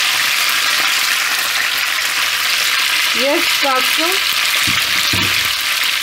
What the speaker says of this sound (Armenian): Հիմա մինչ կարտոֆիլը տապակվում էր